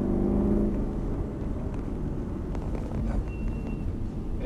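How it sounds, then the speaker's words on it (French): A 4.3-litre V8 car engine rumbles with a deep, steady low drone from inside the car, fairly loud and continuous, with faint clicks and no talking. "C'est un V8 aussi, mais t'as vu, il fait un bruit totalement différent de la Ferrari."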